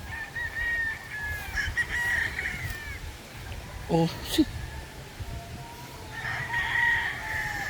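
Roosters crow in a yard of tethered stags and brood stags, with one short crow close by and others farther off, plus scattered clucks and a man's brief spoken exclamation.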